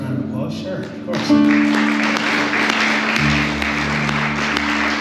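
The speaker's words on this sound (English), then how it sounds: "it deserves a round of applause" Applause breaks out at a Monday night worship gathering and swells after the first second into a steady wash of clapping, with sustained musical tones and a speaking voice underneath.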